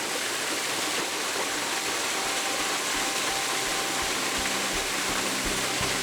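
A waterfall cascading over the top of a drop and splashing onto rocks, a loud, dense, unbroken rush of water roaring steadily throughout with a few low thumps toward the end.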